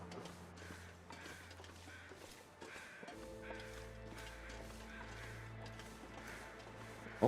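Repeated caw-like bird calls in World of Warcraft ring out over a steady low electronic hum and drone, evenly spaced and moderately loud throughout.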